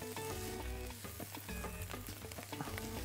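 Calamari sautéing in a hot pan gives a steady, close sizzle that runs unbroken through the whole stretch, with tonal background music playing underneath.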